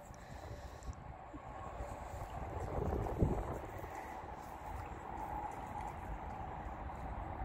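Blustery wind rumbles over the microphone outdoors, a steady low roar that swells and buffets throughout with no clear voices.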